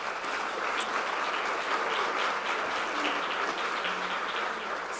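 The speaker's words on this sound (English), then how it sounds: "let's give them a round of applause, please" An audience at the 2018 NYC Food Tank Summit on food loss and waste gives a round of applause, steady, dense clapping filling the hall at moderate volume without speech.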